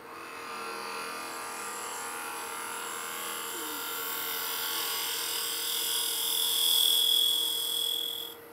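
A wooden goblet rim spins on a lathe as the turning tool cuts it, giving a steady, thin, tinny whine that grows slightly louder toward the end, with no talk.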